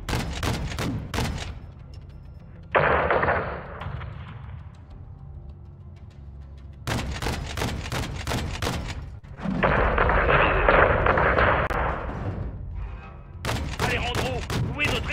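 Aircraft cannon fire in Call of Duty Modern Warfare 2, loud rapid bursts of heavy gunfire in several volleys, broken by sustained roaring blasts, with voices talking in between.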